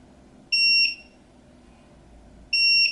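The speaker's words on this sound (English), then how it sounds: "The first alarm is a series of single tones like this." Two short, high-pitched electronic alarm tones from a Nardalert RF radiation monitor sound alone, spaced about two seconds apart over a quiet background.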